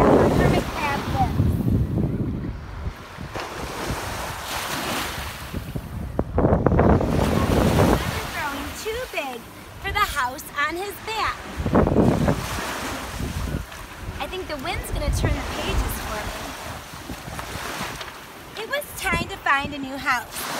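Ocean waves wash onto a beach in gusty wind, a loud, rumbling surge that swells and recedes several times, with wind buffeting the microphone and a voice talking softly between the surges.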